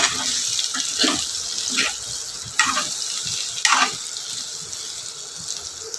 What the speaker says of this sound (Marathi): आता आपण आपले केळीचे काप टाकायचे आहे याच्यामध्ये जे आपण केलेले आणि याला छान हलवून घ्यायचं आपल्याला व्यवस्थित